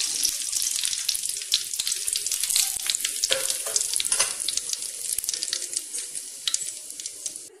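Curry leaves with fennel and cumin crackle and hiss sharply in hot oil, a close, bright sizzle with popping bursts that eases slightly toward the end.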